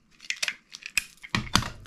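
A strip of adhesive tape is handled while assembling a small gift jewelry box. Quiet crinkling and peeling rustles come close up in short, irregular bursts.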